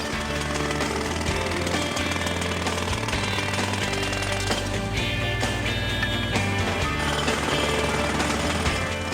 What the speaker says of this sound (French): t'as vraiment l'air d'un dur avec ce marteau-piqueur